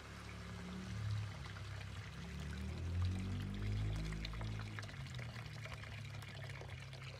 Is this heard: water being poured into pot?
yes